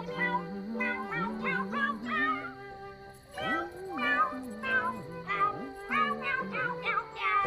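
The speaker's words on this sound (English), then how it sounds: "So they're meowing row your boat, and I'll see if I can put it in here." Cats meowing the tune of Row Your Boat, karaoke-kitten style, with pitched meows strung into a melody over a steady backing track, loud and continuous.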